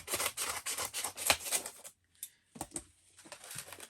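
Scissors snip and cut through cardboard to open a box, a quick run of close, crisp rustling cuts, then a short pause before a few scattered scrapes and handling sounds.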